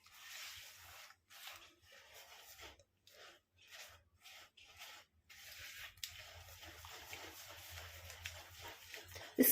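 Plum cake batter ingredients are stirred together in a bowl, giving soft, scraping, rubbing strokes in uneven bursts with short pauses. The sound is quiet, close and alone.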